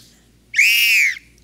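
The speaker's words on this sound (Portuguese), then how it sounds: "Quando você tiver que ouvir o apito, você levanta o braço." A single sharp whistle blast lasting about half a second, loud and close, sounded as a signal for a hearing test, with faint low background hum around it.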